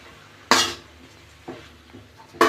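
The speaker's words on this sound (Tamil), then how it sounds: "இப்போ நல்லா கிளறி விடுங்க" Greens being stirred in a cooking pan give three sharp metallic scrapes and clinks spaced about a second apart, fairly close, over a quiet background.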